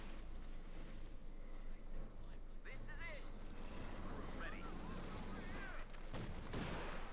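Gunfire and cannon shots ring out in the Company of Heroes 2 World War II strategy game, with scattered sharp bursts and booms beneath continuous commentary from someone talking over the battle.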